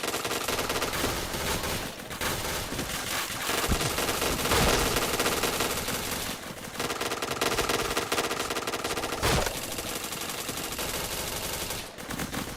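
Rapid automatic gunfire in a video game shooter, long dense bursts of shots crackling loudly and almost continuously, broken by a few brief pauses and heavier single blasts.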